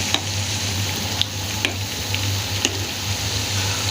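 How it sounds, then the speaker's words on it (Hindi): Moong dal pakode fry in hot oil with a steady, close sizzle while a spoon stirs them, adding occasional light scraping taps against the pan. "और चम्मच हिलाते रहना साथ के साथ।"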